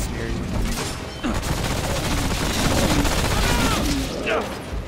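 Shotgun blasts and other gunfire from a co-op boss fight against Gorefist in the game Remnant: From the Ashes, loud and dense throughout, layered with rumbling game effects and voices talking over the action.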